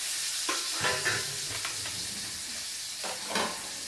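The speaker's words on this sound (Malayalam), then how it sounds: "അപ്പോൾ നമുക്ക് ഈ അയില ഒന്ന് വറുത്തെടുക്കാം." Mackerel fries in hot coconut oil in a pan, giving a loud, steady close-up sizzle with a few brief bursts of crackle and stirring.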